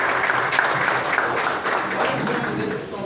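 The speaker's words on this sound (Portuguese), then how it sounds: "Vamos aplaudir, irmãos, esse coral." A church congregation applauds the Aliança Eterna choir, a steady wash of dense clapping at even loudness throughout, with no speech over it.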